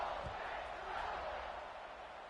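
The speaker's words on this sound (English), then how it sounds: "this crowd is buzzing after that last score." Crowd at a college football stadium during an Ole Miss vs. USC game, a steady, fairly distant buzzing roar of many voices that holds level throughout without clear individual calls.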